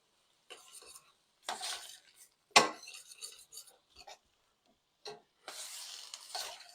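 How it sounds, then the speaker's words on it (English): Apple bits stirred around in a pan, heard as short, separate bursts of utensil scraping and clinking against the pan, with quiet gaps between strokes. "And we're going to stir the apple bits around."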